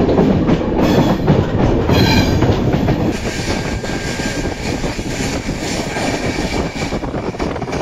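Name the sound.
Saraighat Express train running on the tracks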